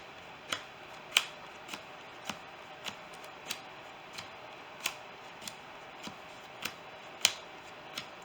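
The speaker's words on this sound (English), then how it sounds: "So let's do my power shuffle." Trading card deck being power shuffled, a string of about a dozen light, crisp card snaps at a fairly even pace, close and quiet over low background hiss.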